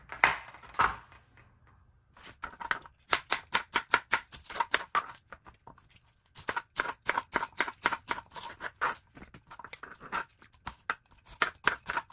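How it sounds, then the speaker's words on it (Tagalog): A kitchen knife cuts pechay stalks on a board in quick bursts of close, crisp chops, with short pauses between the runs and no talking. "ganito lang ang gagawin natin na paghiwa sa ating tangkay ng pechay"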